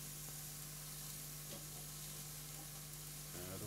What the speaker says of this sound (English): There's a nice sear on there.